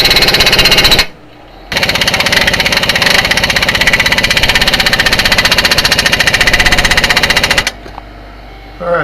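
An impact wrench hammers a flag nut tight on a Ford Explorer rear knuckle: loud, rapid rattling bursts, a short pause after the first second, then a long sustained run that cuts off near the end.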